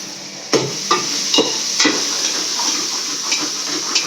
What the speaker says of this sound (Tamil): இப்போ வந்து தக்காளி போட்டுக்கலாம். தக்காளி வதங்கிட்டோம்.